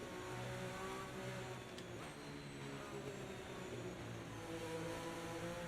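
A Formula 1 car engine in the F1 25 video game drones steadily at high revs just under 7,000, a thick buzzing tone with a rough, rasping edge and no speech.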